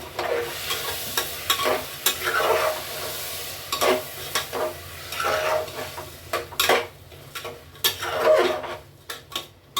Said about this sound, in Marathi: त्यामध्येच हे धुतलेले तांदूळ आणि डाळ टाकते गॅस फास्ट ठेवला मी